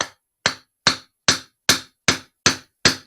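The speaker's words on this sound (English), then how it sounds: "drop the drift in with your soft hammer. I've got a rubber one here." A rubber soft hammer taps a drift to seat a motorcycle fork seal: eight evenly spaced, sharp knocks, each decaying quickly, loud and close with no talk.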